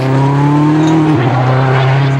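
A loud rally car engine roars steadily, its pitch dipping briefly as the car spins on the handbrake during a rally stage, with tire noise up close.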